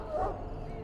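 A wounded dog in the video game Dragon Age: Origins lets out a short, close whimpering yelp, brief and alone.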